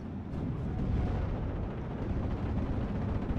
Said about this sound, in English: looks like the bomb's actually been dropped